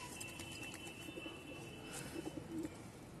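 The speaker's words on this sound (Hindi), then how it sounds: "ये बोल रहा छत पे आके गुटकने लग रहा है" Soft pigeon cooing on a rooftop in short low bursts, a couple of brief phrases against a faint steady outdoor background.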